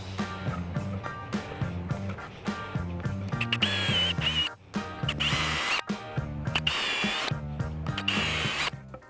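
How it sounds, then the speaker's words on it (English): A power drill boring small pilot holes through wooden pergola bracket bases: close, loud motor whine in repeated bursts that rise and stop, with brief pauses and ratcheting clicks between runs. "drill through with a small pilot hole to the back"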